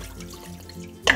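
Liquid pours into a pot, a brief low gurgling trickle lasting about a second before a sharper clatter at the end, with no talking. The liquid is chicken broth whisked with cornstarch, going into an onion mixture.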